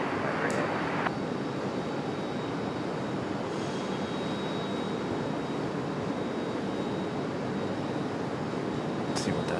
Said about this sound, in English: Runway heading, runway 23 right, clear for takeoff, American 938